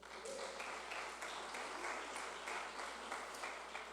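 A church congregation claps steadily for four seconds. The applause is faint and distant, an even wash of sound with no voices over it.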